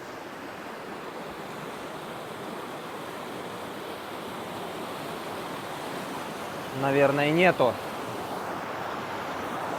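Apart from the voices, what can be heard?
waterfall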